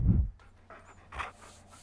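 A tamed beast in the Far Cry Primal video game pants like a dog, a quick run of soft, breathy huffs following a low thump, close and moderately loud.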